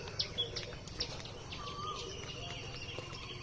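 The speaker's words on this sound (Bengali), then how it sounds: "আর কি সুন্দর পাখির ডাক।" Birds call in a misty village morning: a few short, bright chirps early on, then a brief whistled note, fairly faint over a low background murmur.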